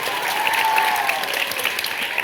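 A crowd of school students gives steady, energetic applause for a newly elected class representative, a continuous wash of clapping hands at moderate distance with a faint voice under it.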